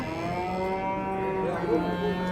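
A cow gives a long, low, steady moo close by at a cattle market in Kokand, with no talking over it.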